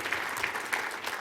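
Brief burst of audience applause for Yoda at the AAU Sullivan Award ceremony, a short patter of clapping from a crowd lasting about a second.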